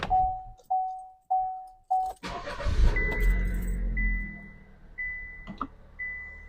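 A 2024 Chevrolet Trax is started. Four evenly spaced chimes come first, then the engine cranks, catches and settles into a loud, close idle. Steady warning tones repeat above the running engine, and no voices are heard.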